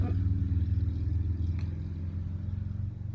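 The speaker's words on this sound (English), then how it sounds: "y'all hear that motorcycle?" A motorcycle rumbles past outside, a low engine drone that is loudest at first and then fades as it moves away.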